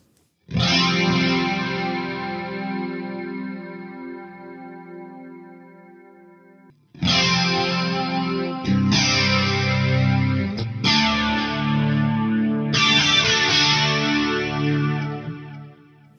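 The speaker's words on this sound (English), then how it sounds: "put on the detune. I got a little room, and I got the delay." Electric guitar played through a single multi-effects pedal with chorus, detune, room reverb and delay, with a long ringing chord followed by several struck chords that shimmer and sustain, loud and alone.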